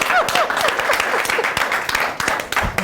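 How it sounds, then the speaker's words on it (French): Audience applause in a French-language broadcast show, dense continuous clapping from a crowd with some faint whistles or cheers mixed in, steady and fairly loud throughout. "On applaudit."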